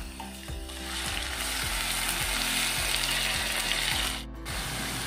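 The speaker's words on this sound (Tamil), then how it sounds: "இப்போ வந்துட்டு அரைச்சி வச்ச கருவேப்பிலையை இதில் அப்படியே மிக்ஸ் பண்ணி நல்லா வதக்கணும்." Steady sizzling of ground curry leaf paste sautéing with onion and garlic in a pan for Tamil karuveppilai kuzhambu, with a repeated rhythmic scraping of a spoon stirring through it, close and continuous without talk.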